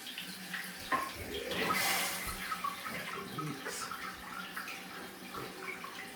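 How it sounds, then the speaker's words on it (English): Water rushes into newly installed toilet plumbing in a shop-house build after the supply is turned on, a steady hiss swelling loudest around two seconds, then settling into a softer continuous flow with small gurgles. "Okay, we're gonna turn the water on."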